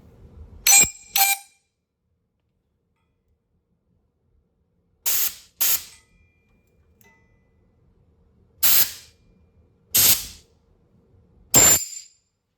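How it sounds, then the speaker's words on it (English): Compressed air blasts through the oil passages of an engine block in short, sharp hissing bursts, mostly in close pairs separated by silence, loud and near with no talking. "So we'll inject a little bit of air in here and see if we can blow anything out."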